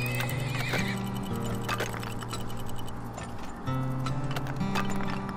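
In the oil-drilling video game Turmoil, a horse whinnies loudly near the start while rhythmic hoof clip-clops repeat throughout, set against steady game music.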